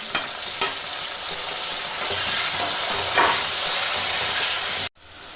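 Diced potatoes going into hot oil for a ridge gourd curry, with a loud, close, steady sizzle and a few stirring bumps before a sudden brief cutoff near the end.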